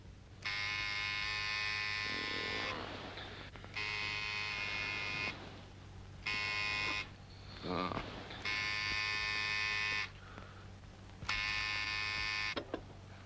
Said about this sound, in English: Just reach over and very firmly press the buzzer.